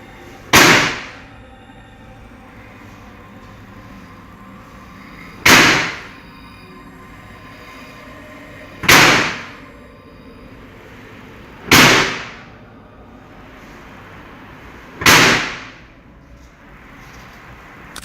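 A door slams shut again and again inside a house, five loud sharp bangs spaced a few seconds apart, each ringing out briefly over a quiet, low background.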